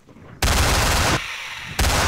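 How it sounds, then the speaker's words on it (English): A minigun fires in Garry's Mod as two loud, dense bursts of rapid gunfire, the first lasting most of a second and the second starting near the end, with a quieter gap between them. "Here we go. With the minigun."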